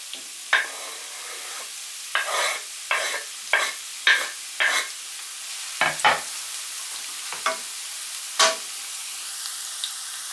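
Onions sizzle and fry in a pan under a steady hiss, broken by repeated sharp stirring scrapes spaced a second or so apart, close and clear, with no talk.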